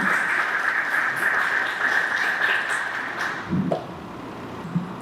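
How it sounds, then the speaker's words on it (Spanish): Audience applause in a formal electoral council session, welcoming an official from the Organization of American States' electoral cooperation department: a steady, dense clapping wash that fades after about three and a half seconds, leaving quiet room noise. "Un aplauso."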